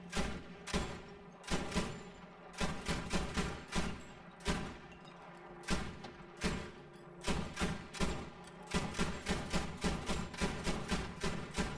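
Rapid gunfire in the video game Battlefield V crackles in repeated bursts, loud and close, with shots clustered in quick volleys and barely any pause between them.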